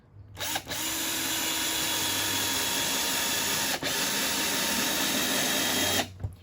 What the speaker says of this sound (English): We're going to put our screw on the end of our drill and put in the first drill